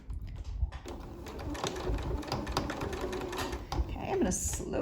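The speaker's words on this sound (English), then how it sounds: "I'm gonna turn it so I can sew down to the end of the piece" Sewing machine stitching a medical mask with filter, a steady continuous mechanical whir running throughout at close range, briefly pausing and resuming, with faint talk at times over it.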